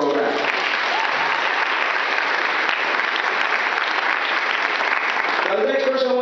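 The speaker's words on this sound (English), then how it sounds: "So please, one more round of applause for the university and their support for our program." An audience applauds the university at a student and parent introduction event, a steady, dense wash of clapping from a full room that fills the whole stretch at constant loudness.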